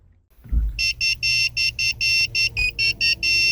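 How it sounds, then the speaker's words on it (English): A key programming tool for a 2006 Lincoln Zephyr key fob gives a series of about ten high electronic beeps in an uneven rhythm, some short and some longer, loud and close, with no one talking. "you'll hear a beeping tone, which means that the key chip programming was successful"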